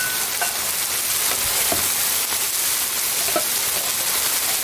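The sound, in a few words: shrimp and Brussels sprouts stir-frying on a griddle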